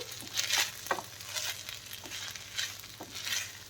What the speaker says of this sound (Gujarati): હવે આપણે આ ફ્રાય કરેલા બટેટા છે એ બટેટાને એમાં એડ કરશું અને ફરી પાછું આપણે મિક્સ કરી દઈશું